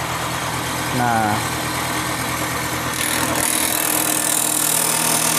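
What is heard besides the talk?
bamboo processing machine switched on, processing peeled bamboo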